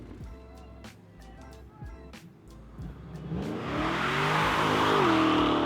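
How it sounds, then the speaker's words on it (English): An old car does a burnout, peeling out as its engine revs up; the engine rises and whines over a few seconds, swelling into a loud sustained roar of revving and tire noise toward the end. "It was kind of more a peel out."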